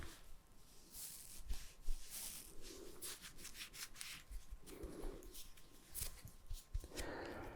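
Someone wipes and cleans an iPhone 14 up close, making soft, quiet rubbing strokes in a repeated, uneven rhythm with no talk.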